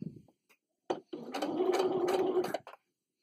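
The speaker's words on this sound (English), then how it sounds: "Bring the presser foot back down and keep sewing." A home sewing machine runs a steady burst of stitching along the seam of a cloth wet bag for pads, a close whirring hum lasting about a second and a half, framed by a few faint handling clicks before and after.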